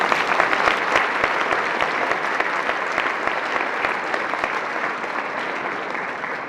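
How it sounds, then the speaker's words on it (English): A round of applause for the women who organised a class reunion, dense crowd clapping close and loud, sustained without a break and tapering slightly near the end. "Let's give them all a round of applause."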